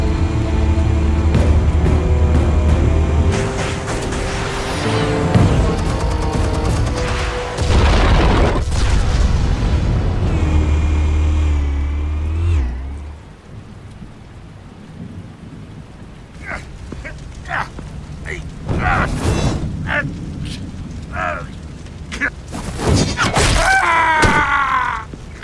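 Deep booming explosions rumble loudly through the first half of a Batman: The Telltale Series video game scene, fading into quieter stretches broken by sharp pops and bursts and a final loud blast.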